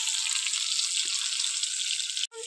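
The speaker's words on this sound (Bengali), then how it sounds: "এবার কচুগুলো ধুয়ে দেব।" Cut taro (kochu) pieces being washed in water, with a steady, close rush of running water that holds for about two seconds and then briefly cuts off.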